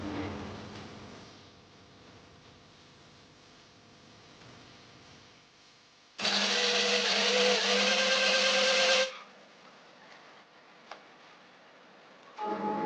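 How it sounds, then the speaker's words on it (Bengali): A mixer grinder blends soaked poppy seeds, cashews and melon seeds into a paste, a loud high whirring burst of about three seconds mid-clip between quieter kitchen noises, with another brief start at the end. "এটাকে একটা মিক্সচার গ্রাইন্ডারে পেস্ট করে নেবো ভালো করে।"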